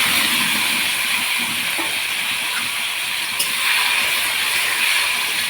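Meat tipped into a hot pan with cumin and chopped onion, sizzling in a loud, steady hiss that fills the whole stretch, close up and unbroken.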